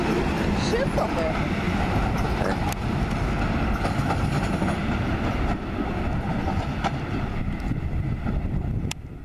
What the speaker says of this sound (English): We're pulling the rock train.